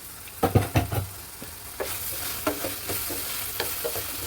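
Tomatoes simmer in a pan for a brinjal and prawn curry and get stirred, with a few loud scraping spoon strokes near the start, then softer intermittent stirs over a low sizzle, no talking.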